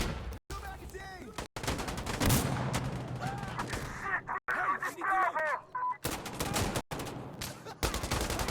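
Gunfire in the tactical shooter game Insurgency Sandstorm: dense bursts of automatic fire and scattered single shots ring out loudly over several seconds, broken by brief gaps, with a voice talking at times.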